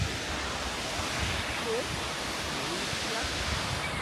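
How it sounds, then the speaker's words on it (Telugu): Steady, broadband rush of a waterfall in the Black Forest, Germany, heard from a hanging bridge; the constant wash of falling water fills the whole stretch at an even level. "అది వాటర్ ఫాల్ బా అద్భుతంగా ఉంది కదా"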